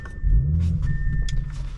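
A 2023 Audi S5 Prestige engine cranks and catches with a deep low rumble, then settles into a steady running idle, close by.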